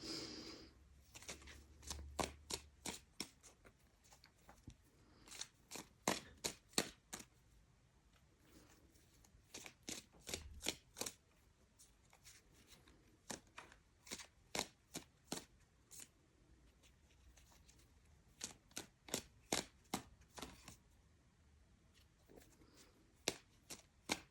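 Tarot cards being shuffled by hand in sharp, crisp bursts of riffling clicks, repeated in irregular clusters with short pauses between, close and fairly quiet with no talking.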